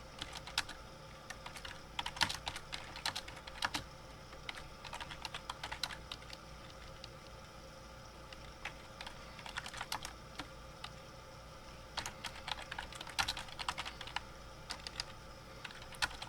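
Typing on a computer keyboard, close and quiet, with bursts of rapid clicking keystrokes separated by brief pauses, no voices.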